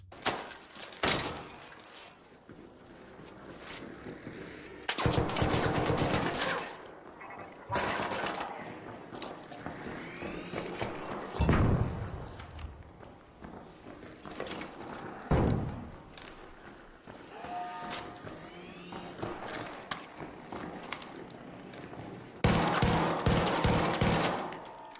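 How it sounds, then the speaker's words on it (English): Bursts of rapid gunfire from a shooting game, loud volleys separated by quieter stretches of clicks and effects, with no talking. "I really want to focus on the gunfire sounds"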